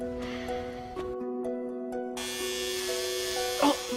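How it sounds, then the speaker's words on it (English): An electric razor shaving hair buzzes close by, steady with a tonal hum that shifts as it presses and moves against the head, brief louder bursts near the end. "So just help me shave my hair."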